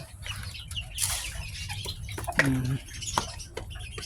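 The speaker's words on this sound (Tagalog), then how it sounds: "Bantam chicken yan guys, oh." Bantam chickens kept as pets on a farm cluck softly and steadily nearby, with a brief louder call in the middle and faint background rustling.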